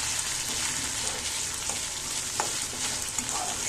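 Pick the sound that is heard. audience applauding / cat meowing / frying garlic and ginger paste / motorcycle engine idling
frying garlic and ginger paste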